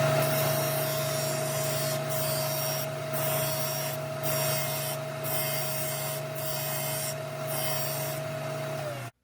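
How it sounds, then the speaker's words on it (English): A disc sander runs steadily, shaping and smoothing a small wooden fin, with a constant motor hum and a rhythmic rasping scrape each time the wood is pressed against the disc, close and fairly loud until it stops. "now I'm going to do the final shaping and smoothing of it on my sander"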